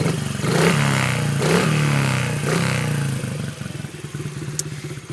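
A 2006 Honda CRF50 dirt bike engine idles close by with a steady, throbbing putter. It swells in a few gentle pulses early on, then settles into an even, lower idle.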